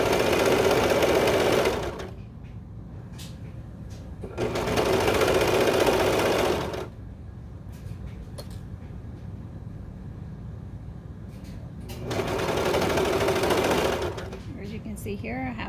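A serger sews a stretched waistband onto baby bummies in three loud, steady whirring runs of a few seconds each, with quieter low hum and light clicks between them.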